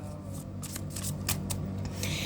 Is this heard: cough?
no